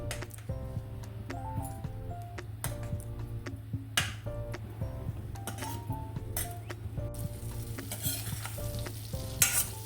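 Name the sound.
butter melting and sizzling in a pan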